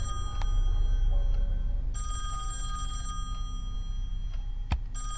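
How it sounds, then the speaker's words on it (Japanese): Old telephone bell ringing inside a house in the horror video game Song of Horror, loud repeated electric rings over a low ambient drone, with a sharp click near the end. "知らない人のうちにの電話なんて出ちゃダメだよ。"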